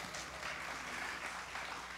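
Steady, soft applause from a crowd at a swearing-in ceremony, a dense even patter of many hands clapping at a distance with no pauses.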